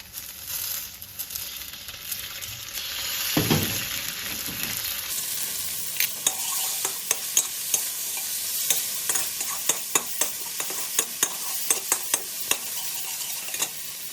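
Chilies and chopped garlic stir-frying in a pan for a Thai sea bass and celery dish: a steady loud sizzle with a thump as the ingredients go in, then repeated scraping and clinking of a utensil stirring in an irregular rhythm.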